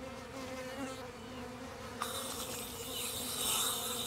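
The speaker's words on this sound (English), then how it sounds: "You could probably hear them buzzing in the mic." Dense buzzing of a honey bee swarm, steady and close, rising slightly louder toward the end.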